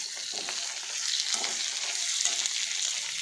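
Ginger sizzles loudly in hot oil with garlic in a pan for fish pickle, a constant bright frying hiss broken by soft stirring scrapes.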